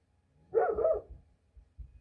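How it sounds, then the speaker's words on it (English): A single dog bark, close and moderately loud, followed by a couple of faint low thumps or softer yips. "I really want Jake to stop barking at nothing."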